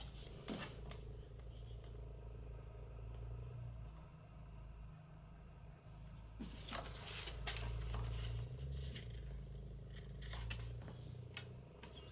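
Scissors cutting through a book page in a papercraft session, several crisp snipping bursts spread over a quiet low room rumble, with no talking.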